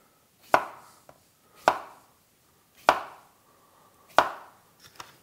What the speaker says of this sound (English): my circles of cucumber are gonna be roughly kind of bite size. Okay, something like that. So cut up all your cucumbers